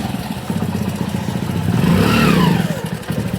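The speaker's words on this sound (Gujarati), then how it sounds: "બાઇક ચાલુ કરી દીધી है ભોણાએ" A motorcycle engine runs close by with an uneven putter that swells as the throttle rises briefly, then settles back, no voices.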